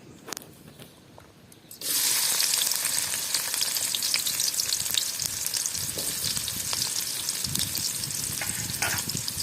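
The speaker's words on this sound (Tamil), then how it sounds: "எண்ணெய் ஏற்கனவே காஞ்சது தான், அதனால் வெங்காயம் போட்டுக்கலாம்." Onions dropped into hot oil burst into a loud, steady sizzle after a quiet start and keep frying close up with a continuous crackle.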